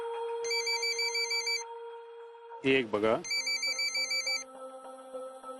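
A mobile phone rings with an incoming call, its repeating electronic ringtone playing loud and close, cut off for a moment by a short line from a woman before the ring resumes.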